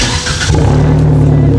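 A supercharged Suzuki Jimny engine cranks briefly and catches, settling into a loud, steady idle close by.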